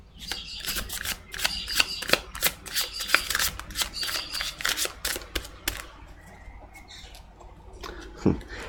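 Tarot cards riffled and shuffled by hand for a reading, a run of quick papery flicks and snaps up close, easing off into quieter handling near the end.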